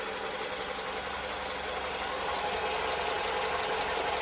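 Steady idle of a 2015 Toyota Venza's 2.7-liter engine with the hood open, a constant broadband mechanical hum and faint ticking heard up close, continuous and even throughout with no talking.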